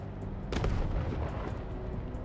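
A heavy sniper rifle shot booms in the video game Wasteland 3, one loud blast followed by a rumbling tail and a faint echoing crack, set against a low ambient game drone.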